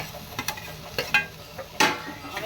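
Boiled potatoes stirred into a spiced bhaji filling in a pan, with a soft sizzle and several scraping, clinking strokes of a spoon at an irregular pace.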